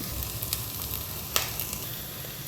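Salted peas, carrot and potato frying in a pan for upma give a steady close sizzle with a few light stirring clicks and taps, no one talking.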